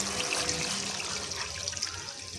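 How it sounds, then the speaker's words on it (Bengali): Water pours steadily into a pan of cooked spice paste in a kitchen, a continuous close splashing and gurgling stream with no talking. "এখন আমি জল দিয়ে দেবো"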